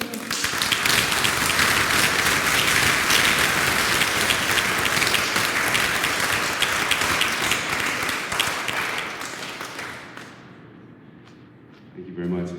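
An audience at a public art award ceremony gives loud, sustained applause, a thick crackle of many hands that gradually thins and fades out near the end, before a voice begins speaking.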